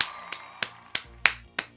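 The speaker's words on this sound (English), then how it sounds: "Gotta clap it up again." Five sharp hand claps ring out at a steady, unhurried pace, evenly spaced and close, over a faint background hum.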